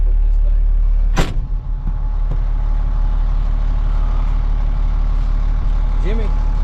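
Large off-road haul truck engine running with a steady, loud low rumble, broken near the start by a sharp clank and brief hiss, then idling on evenly.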